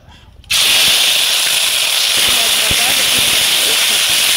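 Onion paste dropped into hot oil in a wok, starting with a sudden loud sizzle that holds as a steady close hiss with a few faint pops. Nothing is heard before the sizzle begins.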